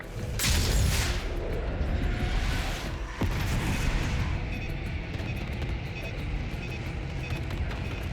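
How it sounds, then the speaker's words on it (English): Air-support bombs exploding in Call of Duty: Black Ops 6, a heavy booming blast followed by a second sharp impact and a long rumbling, loud roar that slowly settles, with no voices. "Bombs away."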